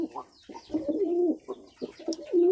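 Pigeons coo close by as they come down to feed, several overlapping throaty calls in short bursts with brief pauses between them.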